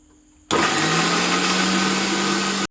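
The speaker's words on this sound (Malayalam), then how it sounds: "മിക്സിയിൽ നന്നായിട്ട് അരച്ചെടുക്കണം" After a short quiet moment, a mixer grinder starts abruptly, grinding tulsi leaves with lemon juice, and runs at a loud, steady whine, close by, before cutting off sharply.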